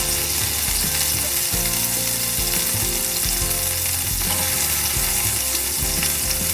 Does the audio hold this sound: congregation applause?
no